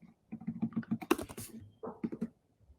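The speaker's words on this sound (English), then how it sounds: "I'm gonna type to" Keystrokes on a computer keyboard during a live coding demo at a PyData conference, a quick run of clicks, a sharper burst, then a shorter second run, close and clear with no speech.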